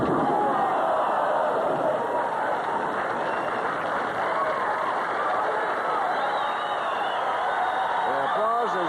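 A bowling crowd at the 1981 PBA AMF MagicScore Open in Peoria applauds bowler Earl Anthony, a steady broad wash of clapping that holds for several seconds while a commentator talks over it.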